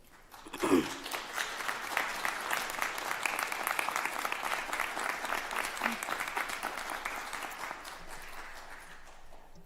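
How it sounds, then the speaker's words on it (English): Graduates stand and applaud their families at a nursing doctoral hooding ceremony, a broad, steady wash of many hands clapping that fills the hall for nearly ten seconds before easing slightly. "I encourage the graduates to stand and applaud for you for all of your enduring support"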